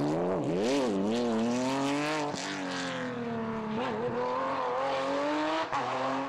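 A Porsche rally car on a narrow road in the British Rally Championship roars past close by, its engine note rising and falling through gear changes, loud and continuous with no voices.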